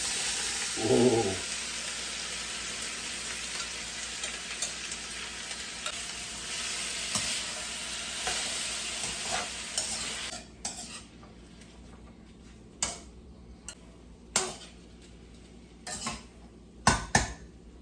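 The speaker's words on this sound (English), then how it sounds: "Go ahead and dump my vegetables in." Vegetables including onions hit hot olive oil in a pan for a home-cooked Chinese dinner, a steady sizzle under occasional sharp scrapes and clinks of a utensil stirring, the sizzle easing while the stirring knocks grow sharper.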